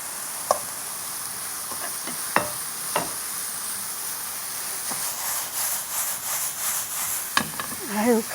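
Garlic scapes, fish cake and red pepper stir-fried in a pan, giving a faint steady sizzle broken by a few sharp scrapes and taps of a utensil, with soft background noise throughout.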